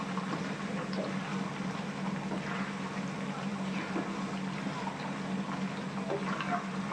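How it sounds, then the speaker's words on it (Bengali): Raw mango pickle simmers in sugar syrup in a pan, giving a steady soft bubbling hiss that runs evenly throughout with no pauses. "আর কিছুটা সময় আমার আচারটি সিদ্ধ করতে হবে যাতে আমটা পুরোপুরি ভালো করে সিদ্ধ হয়।"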